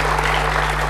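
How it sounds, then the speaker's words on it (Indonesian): A crowd claps for the young performers at a senior citizens' day gathering, a short, loud burst of dense applause over a strong steady electrical hum. "Kita beri tepuk tangan adik-adik kita ini"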